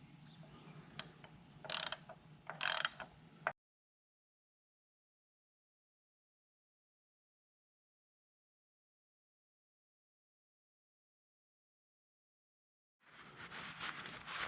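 Bolts on a Gentec HT830 hydraulic thumb fitted to a mini excavator are tightened with a ratchet wrench. Close bursts of ratcheting clicks break off into a long silence and then start again.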